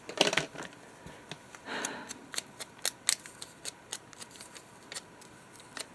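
Scissors snip through a magazine image for a collage, a burst of quick cuts at the start followed by a steady run of sharp, separate snips, close and clear with no talking.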